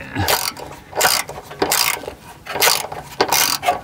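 Wrench ratchet clicking in repeated bursts while undoing exhaust fixings on a Citroën C3 III, several loud close rattling strokes separated by short pauses, with no talk.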